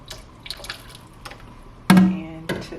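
Apple cider vinegar pours into a pot, a couple of short splashy liquid bursts with a louder gush near the end, close by and no talking.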